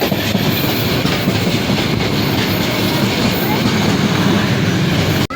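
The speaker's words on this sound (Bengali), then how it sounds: "আমাদের ট্রেন ছেড়ে দিছে।" A passenger train moves along the tracks with a loud, steady rumble and rattle of the carriages, heard close from inside.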